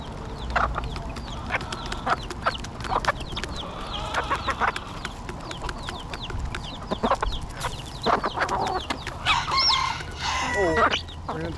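A flock of chickens with a dominant rooster clucks and squawks continuously up close, with sharp calls and pecking scuffles throughout and a voice talking at times.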